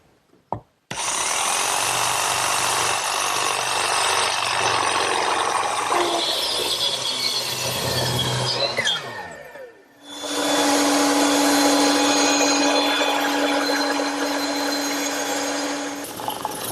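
A jigsaw cuts out the inside of an oak child's wagon handle clamped in a bench vise, a loud continuous buzzing saw that pauses briefly near the middle, then resumes steadily to the end.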